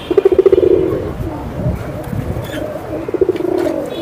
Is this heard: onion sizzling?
no